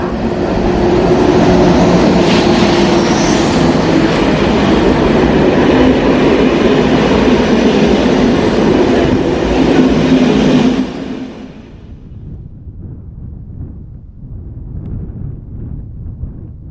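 A train from Paris-Austerlitz bound for Orléans rolls into the station, a loud, close rumble with rail clatter that cuts off abruptly, leaving faint low background noise.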